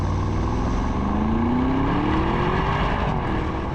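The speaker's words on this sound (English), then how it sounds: "And then there's the sound of the V8, which is lovely." Audi SQ7 V8 engine revving and accelerating, a loud, steady throaty roar with a rising tone as the SUV pulls, heard close and continuous throughout.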